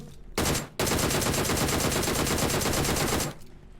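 Rapid automatic gunfire in PUBG Mobile in a sustained burst, a brief pause and then a longer continuous stream of shots, loud and close.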